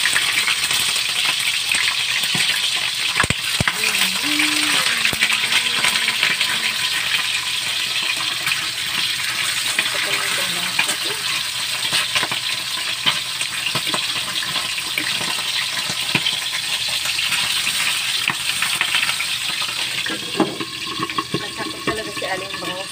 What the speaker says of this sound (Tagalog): Ilagay na natin ang bangus. Para talsik.